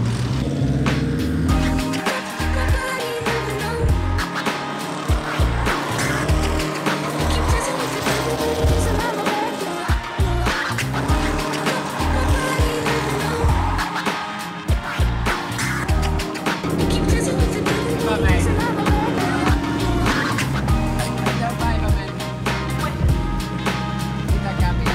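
Drift car at full throttle, a loud sustained engine roar with rapid revving and rattling that runs continuously and close up, with no talk over it.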